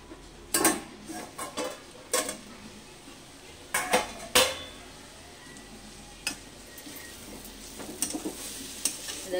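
Papaya cooking in a pan is stirred in bursts, a metal utensil scraping and clanking against the pan over a low sizzle, with quiet pauses between the strokes.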